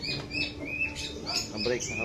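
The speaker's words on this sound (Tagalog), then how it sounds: "At yung mga stock bird niya, mga ibon niya." Soft chirps and faint cooing from racing pigeons crowded together in a loft, a busy low murmur with scattered tweets and rustling throughout.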